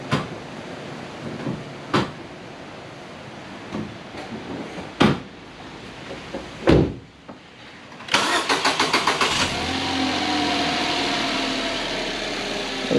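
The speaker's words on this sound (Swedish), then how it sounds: "Då får mamma prova starta bilen också så ska vi se om den hoppar igång för henne" A Toyota Aygo with a suspected battery problem is started: after a few clunks and door sounds, the starter cranks in a quick rapid series and the engine catches into a steady idle, close by with no talk.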